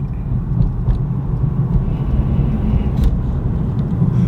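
A car driving with a steady, loud low rumble of engine and road noise running unbroken throughout, no voices.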